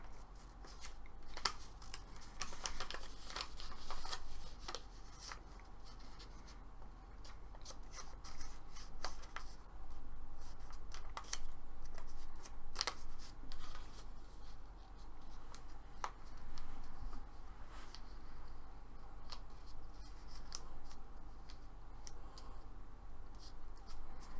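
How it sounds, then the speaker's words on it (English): Paper petition being folded and handled, with continuous crinkling, rustling and sharp creasing snaps close by, going on steadily throughout. "you're going to fold it. You're going to fold your petition up."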